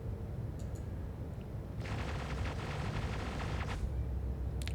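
Perseus point-defense cannons fire at incoming missiles in a space combat video game, a dense, rapid crackling burst lasting about two seconds over a low, steady background rumble.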